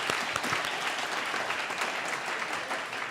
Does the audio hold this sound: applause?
yes